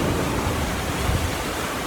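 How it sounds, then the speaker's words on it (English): A sailboat cruising offshore at about nine knots surfs down small ocean waves, giving a steady, close rush of water and wind noise with no clear breaks. "Back to going 9 knots and kind of, surfing down some little waves here and there"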